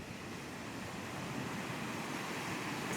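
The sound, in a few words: flowing river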